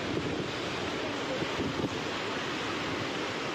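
Floodwater from heavy rain rushes and swells over a mill in Kadapa, a steady loud roar of churning water with gusty wind noise, continuous throughout and no one talking.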